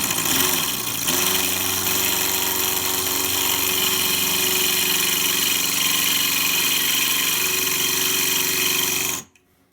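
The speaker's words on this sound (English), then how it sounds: "Put this on high speed for drilling." Power drill run at high speed against a hardened screw head, a loud steady whine and grind with a brief stumble near the start, holding constant for about nine seconds before cutting off abruptly.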